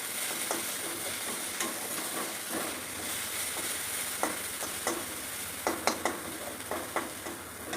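Onions fry in a pan for a fish curry with raw banana and potato, giving a steady soft sizzle and hiss broken by sharper spatula scrapes and taps from stirring, with no voices.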